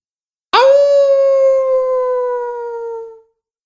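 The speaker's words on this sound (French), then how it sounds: "puis ce fut un hurlement dans la montagne." A wolf howls in the mountains: one long, loud, clear howl rises sharply, holds steady for nearly three seconds, then slowly drops in pitch and fades out, with nothing else around it.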